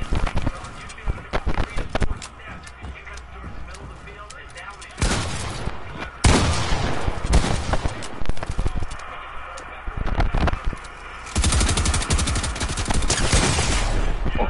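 Video game gunfire crackles in dense bursts and volleys across the span, loud and close, with heavier clusters near the middle and end, while a voice talks over it.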